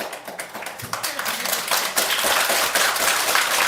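Audience at a political talk clapping, a loud, close, irregular patter of many hands that builds and holds steady.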